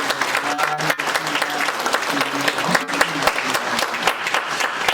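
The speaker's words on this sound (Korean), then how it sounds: "박수 한번 해주세요." A church congregation claps together in a steady, dense patter of many hands, moderately loud and continuous for several seconds, with faint murmuring underneath.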